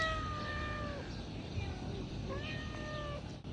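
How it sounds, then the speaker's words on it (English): A black cat at a campground meows in a few drawn-out, rising and falling calls, fairly close, over a steady low background hum. "This black cat, by the way, had even gotten inside the motorhome."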